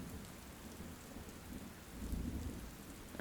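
Steady rain falls in a garden, a soft low hiss of drops on leaves and ground with a faint distant rumble swelling briefly near the end; no one speaks.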